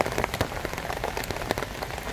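Heavy rain pours beside a river, a dense, continuous patter with sharp drops striking surfaces throughout, loud and close with no voices.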